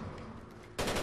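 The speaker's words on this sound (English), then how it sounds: "He's over there on a heavy machine gun." Heavy machine gun fire in Rainbow Six Vegas 2, a faint distant rattle that suddenly becomes a loud, close burst of rapid shots near the end.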